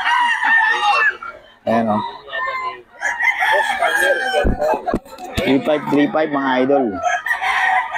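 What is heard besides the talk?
roosters crowing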